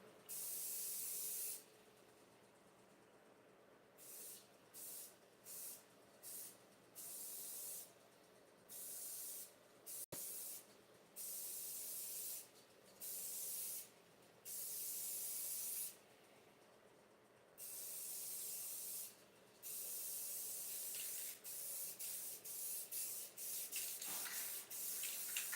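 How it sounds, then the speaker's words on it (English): An aerosol spray paint can left over from painting a motor hisses in a series of short and longer bursts, loud and close, separated by brief silences. "This is just extra spray paint when I painted my motor that I sold."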